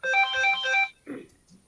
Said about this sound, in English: Was that your phone?